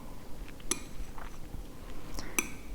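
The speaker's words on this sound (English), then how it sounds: "I'm gonna try to eat it with these chopsticks" Chopsticks and utensils clinking against a dish while eating, two sharp bright clinks with faint soft handling noises between them, close and fairly quiet.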